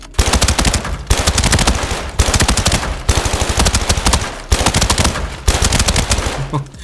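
Bursts of rapid automatic rifle fire in the video game Arena Breakout Infinite, loud and close, come in several sustained strings separated by brief pauses.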